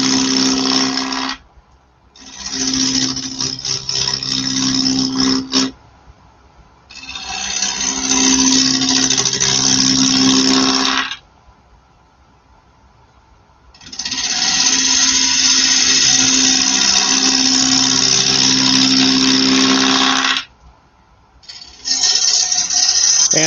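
A wood lathe spins a square bowl while a tool shapes its wings, giving long bursts of loud, close scraping and hissing cuts over a steady hum, broken by short pauses when the tool lifts away.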